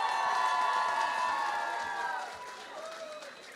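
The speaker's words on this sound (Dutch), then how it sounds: "Dus ook Melanie verdient even een groot applaus." Applause and cheering from an audience at a televised talent show finale, a sustained wash of clapping with raised voices and tonal whoops, fading slightly toward the end.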